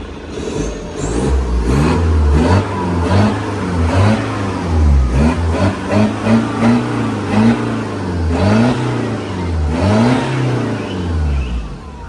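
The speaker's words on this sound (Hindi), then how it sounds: "देखो पहले रेव करता हूँ फिर तुमको दिखाता हूँ।" A car engine revs repeatedly in rising and falling throttle blips, its exhaust note loud and close, swelling and dropping in a steady rhythm for about twelve seconds with no voices.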